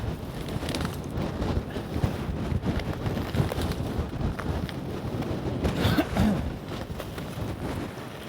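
Steady low wind buffeting a microphone on a ski slope at the start of the Sarenne black piste, a constant rumbling roar with faint rustling and occasional gusts, no talk.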